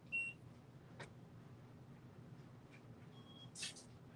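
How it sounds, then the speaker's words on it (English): Short, faint electronic beeps sound now and then over a low background hum, brief and scattered rather than rhythmic. "I'm hearing beeping"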